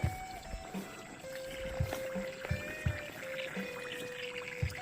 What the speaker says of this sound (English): Yes, I do have a leak right here. You hear that?